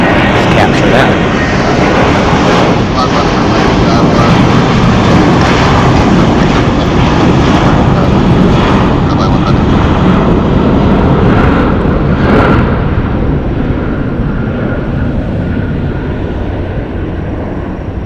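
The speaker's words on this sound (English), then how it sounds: "Departing here is Southwest Airlines 3392 going to San Antonio on a Boeing 737-700" A Southwest Airlines Boeing 737-700 takes off at an airport, a loud continuous roar of jet engines filling the air and fading slightly toward the end, with radio chatter faintly underneath.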